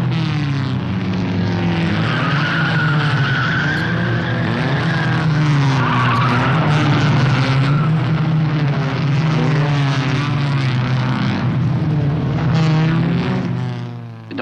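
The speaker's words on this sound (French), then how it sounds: "Nous sommes à Sebring, en Floride. C'est une course de 12 heures mobilisant des voitures de types variés." Race cars of varied types at the Sebring 12-hour race in Florida roar past loudly with shifting engine pitch and tire squeal, a dense continuous racket that tapers off at the very end.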